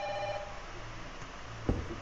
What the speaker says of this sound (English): Somebody's ringing the phone